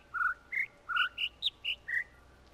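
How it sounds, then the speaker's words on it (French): Bird song in the video game The Witness: seven or eight clear, short whistled chirps at varying pitches in a steady rhythm, close and distinct against a quiet background. "Alors faut écouter l'oiseau cette fois."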